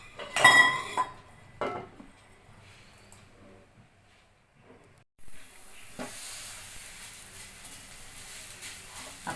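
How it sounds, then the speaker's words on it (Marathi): Bottle gourd steaming in a pan in a home kitchen: a few utensil clinks and clatters at first, then after a quiet gap a steady, close hiss of steam that continues to the end. "जो दुधी आहे तो आपण थोडा याच्यात वाफून घेणार आहोत"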